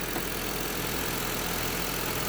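A Honda car engine idles steadily and evenly after a tensioner and idler bearing repair, a constant close hum with no talking.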